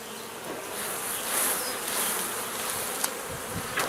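Honeybees being shaken off a brood frame during a routine hive inspection fill the air with a dense, close, continuous buzzing swarm sound.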